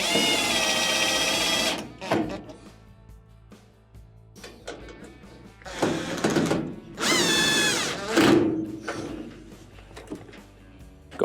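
A power drill drives screws into a GE dryer in several short bursts separated by pauses and handling clatter, close and loud.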